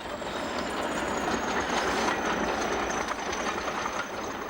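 British Rail Class 40 diesel locomotive running, a steady loud rail rumble with wheel clatter and a faint high squeal, continuous and near, with no voices.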